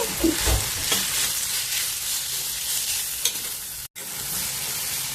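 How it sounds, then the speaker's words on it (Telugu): Chilli powder sizzles and fries in a hot pan for a moth bean curry, a steady close crackle with occasional scrapes of stirring and no talking. "కొంచెం ఈ కారము పచ్చివాసన వదిలేంత వరకు వేగనిద్దాము"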